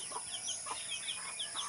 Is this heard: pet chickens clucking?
yes